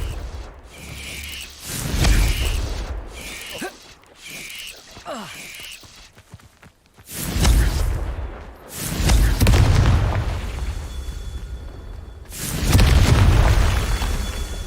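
Confringo fire spell blasts in the video game Hogwarts Legacy, several loud booming explosions with a deep rumbling tail, repeated at intervals amid clicks and game effects.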